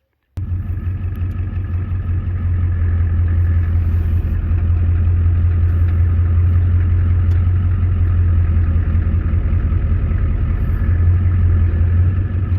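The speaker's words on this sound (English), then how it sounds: "what you're going to want to do is just drive out from under the truck" An old truck's engine rumbles steadily at a low idle-like drone, close and loud, starting abruptly after a brief silence and running without talk for the rest of the clip.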